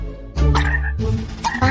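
A pink frog in a Minecraft animation gives loud, close croaks, two or three rough bursts in quick succession with no talk over them.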